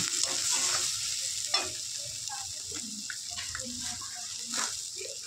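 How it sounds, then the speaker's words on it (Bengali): Shredded cabbage frying in a pan with turmeric, salt and spices for a Bengali cabbage chorchori. A soft, continuous sizzle runs under intermittent scraping stirs and light clinks, all fairly quiet and close. "হলুদ, দিয়ে ভালো করে নাড়াচাড়া করে নেব।"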